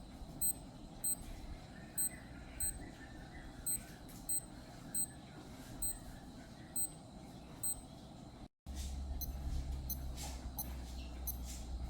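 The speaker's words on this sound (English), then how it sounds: "the chime or sound on the Casio is much more audible than the Skmei's." Short, high electronic beeps from a Casio A168WA digital watch chime repeat at a regular pace for about eight seconds, cut off briefly, then resume faintly over a louder low hum.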